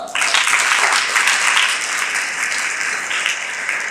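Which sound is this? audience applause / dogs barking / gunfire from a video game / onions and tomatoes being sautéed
audience applause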